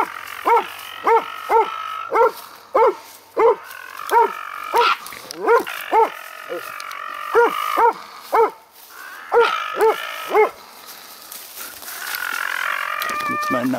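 A dog barks repeatedly in a steady series of sharp, fairly close barks outdoors during a hunting outing, the rhythm breaking off near the end as rustling and movement take over.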